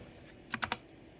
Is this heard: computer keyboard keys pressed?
yes